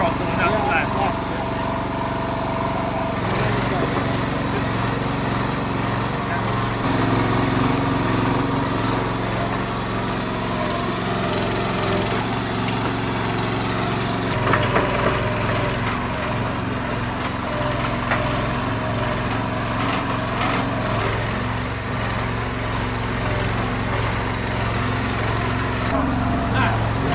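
A farm crop machine engine runs loud and steady for the whole stretch, droning close with slight throttle swells, while a voice talks faintly beneath the noise.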